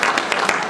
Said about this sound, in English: All right, y'all clap for that. Y'all clap for that. Y'all clap for her.